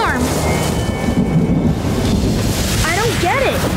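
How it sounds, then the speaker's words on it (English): Rolling thunder from a big storm in a cartoon, a loud sustained rumble that fills the clip, with a swooping tonal sound effect near the end. "We want to stay clear of that big storm."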